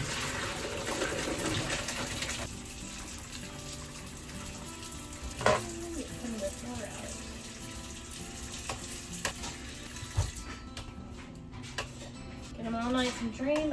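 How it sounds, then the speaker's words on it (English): Cooked potatoes are drained from a pot over a sink, water pouring and gushing steadily at close range with some clatter, while a person talks over it. "So I'm going to now drain them over here."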